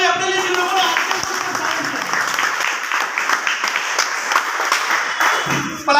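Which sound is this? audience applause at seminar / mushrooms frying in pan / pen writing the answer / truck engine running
audience applause at seminar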